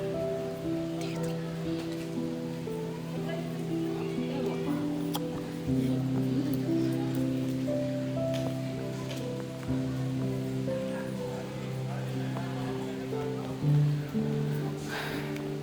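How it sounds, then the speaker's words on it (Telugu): Rain begins falling at a temple, a steady soft patter spread across the whole stretch beneath sustained tonal drones and hums that run continuously throughout. "వర్షం అయితే స్టార్ట్ అయింది ఫ్రెండ్స్, చూడండి"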